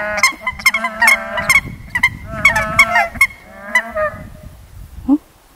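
Several Nene geese honking in a high volcanic crater landscape on Haleakala, repeated nasal calls in uneven bursts at moderate distance, with crunching footsteps and rustling underneath.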